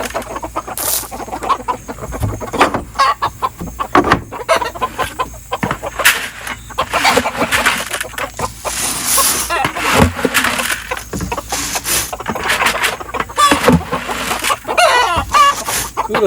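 Backyard flock of chickens squawking and clucking excitedly at feeding time, dense overlapping calls close by with scattered sharp squawks, a voice speaking now and then underneath.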